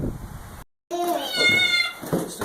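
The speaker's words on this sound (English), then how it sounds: "Oh my gosh, wild kitty!" A wild cat in a grandma's shed meows loudly, a rising harmonic cry right after a brief silence, with breathy rustle and a voice faintly around it.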